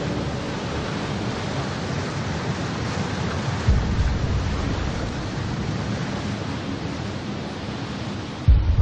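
Tsunami floodwater surges across a nuclear power plant site in a continuous broadband roar of rushing waves, loud and unbroken, with a couple of heavier low thuds.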